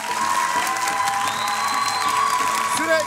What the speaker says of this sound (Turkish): Haydi bir alkış.